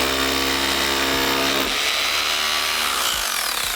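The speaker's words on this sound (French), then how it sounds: "On va venir percer." A power drill bores into a wall after dusting and moistening, ahead of inserting hammer-in plugs; a loud, steady high-pitched whine runs throughout, its pitch shifting partway as the bit bites, with no talking.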